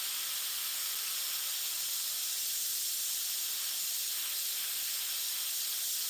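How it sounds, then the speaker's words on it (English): An airbrush mists black paint over painted flames in one continuous, steady hiss, close and unbroken, with no voices. "if I feel it needs black over it a little, I'll mist some black on it."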